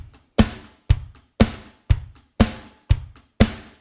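Drum kit plays a simple steady beat with a hi-hat pattern, seven evenly spaced loud hits with short decays, close and alone with no voices.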